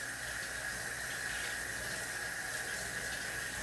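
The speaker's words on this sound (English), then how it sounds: "I'm going to go rinse my hands off, get flour off of them." Tap water runs steadily into a sink as flour is rinsed off hands, a continuous close hissing gush that stays even throughout with no talk.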